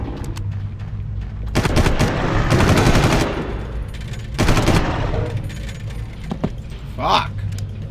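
Bursts of automatic gunfire in the video game Far Cry, loud rapid volleys in two main stretches with mechanical clatter between and a closing burst of shots.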